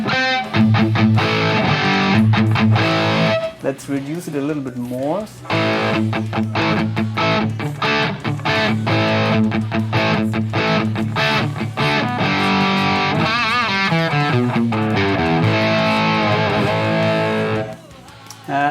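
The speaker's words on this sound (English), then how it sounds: "I would like to try out some crunch tones with less gain, so I will set the gain now at 12 o'clock." Schecter Banshee 6 electric guitar played with a crunch tone through a Bugera G5 Infinium amp into a Marshall 1960 cabinet, gain at noon, distorted chords and riffs ringing loud and steady for most of the clip, with a brief spoken aside.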